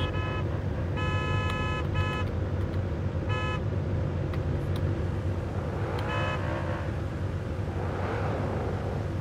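Car horn honked in the BeamNG driving game during street drifting: several short, bright toots in quick bursts over a constant engine drone, then quieter wavering tones, with no talk.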